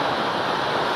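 Water pours down heavily onto a stadium in a dense, continuous roar like a waterfall, loud and broadband throughout with no pauses or voices.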